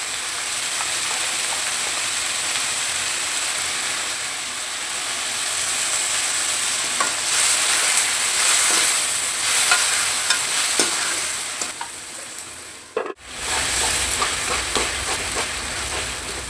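Tomatoes stir-fry with lentil bean (masoor semi) greens in a pan: a dense, constant sizzle with scraping stirs, briefly broken by a sharp clatter and dip near the end before the frying resumes.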